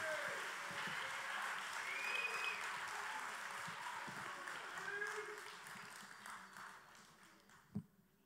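Audience applause for a singer at a song contest in Lillebonne, steady clapping from a crowd that gradually thins and fades, ending with a single sharp knock.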